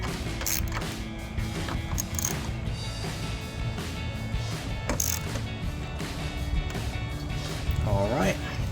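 A ratchet with an 8mm socket tightens the headlight bolts on a 2021–2023 Ford F-150, giving rapid clicking bursts close by amid workshop clatter, with a person talking over it.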